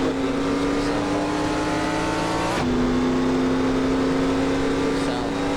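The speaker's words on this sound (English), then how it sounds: "This is what the engine's going to sound like." Race car engine from the video game NASCAR Racing 2003 holds a steady loud drone through the whole stretch, with a brief shift in pitch partway through, like a gear change or lift off the throttle.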